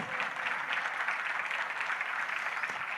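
An audience at a religious discourse claps in a steady, continuous patter that stays faint and distant throughout, with no pauses and no clear voices.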